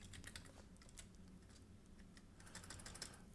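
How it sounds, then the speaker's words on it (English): Fingers type quickly on a computer keyboard while entering network device commands, a quiet run of light, uneven key clicks with short pauses between bursts. "let me just type this."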